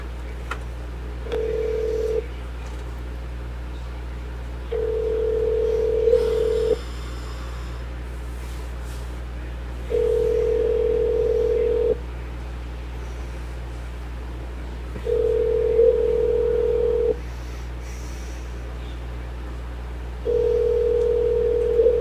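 A telephone call rings out unanswered, its purring ring tone repeating five times in steady two-second bursts with pauses between, heard alone over a low constant hum.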